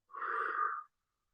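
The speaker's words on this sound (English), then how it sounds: "Deep breath in" One slow, deep breath drawn during a guided breathing exercise, a soft airy rush lasting under a second, close and alone, followed by silence.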